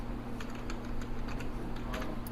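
Typing on a computer keyboard while writing C++ code produces a quick, irregular run of close key clicks, some slightly louder than others, over a soft steady hum, with no talking.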